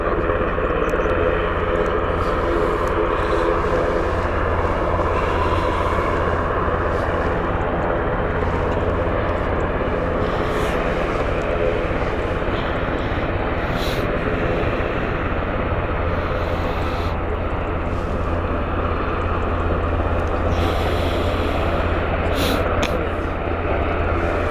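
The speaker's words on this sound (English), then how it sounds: "There's actually a Cessna Citation taking off as well." A Cessna Citation business jet takes off at foggy Stansted Airport, its engine a continuous loud rumble and roar sustained throughout, with occasional faint background sounds.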